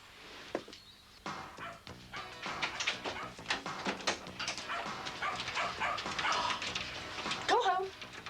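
A dog barks amid a busy, noisy outdoor scene, its yaps mixed with voices talking and shouting nearby, the barking blended into steady background commotion.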